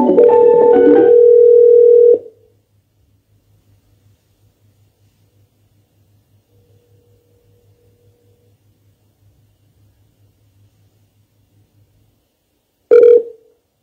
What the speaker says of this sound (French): si vous êtes là, Monsieur Barry, si vous êtes là, je vais vous appeler maintenant, là, directement.